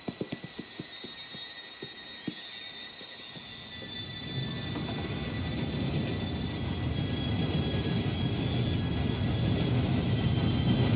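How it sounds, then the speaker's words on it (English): In the Red Dead Redemption 2 video game, a train's low rumble swells steadily and grows louder from a few seconds in, while horse hooves clip-clop at the start. "Train should be here any minute."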